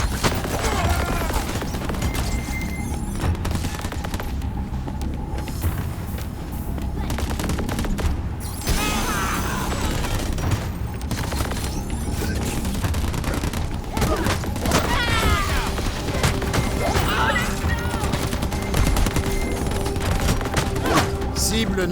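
Gunfire in the video game Crackdown 3: dense bursts of rapid automatic shots and heavier booms run almost nonstop for over twenty seconds, mixed with other loud combat sounds and effects.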